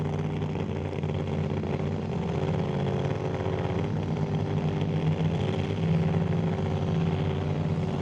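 A 1967 Mustang drag car with a 521 cubic inch Noonan-headed Hemi engine rumbling at a drag strip, a loud, steady low idle holding throughout without clear revs.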